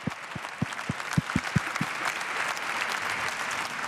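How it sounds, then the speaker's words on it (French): An audience at a Christian gathering breaks into applause, opening with a few distinct loud claps before settling into a dense, sustained wash of clapping from the crowd. "applaudissez-le, s'il vous plaît"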